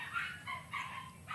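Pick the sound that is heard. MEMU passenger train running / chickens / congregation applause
chickens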